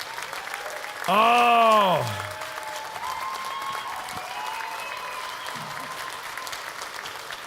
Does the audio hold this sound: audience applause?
yes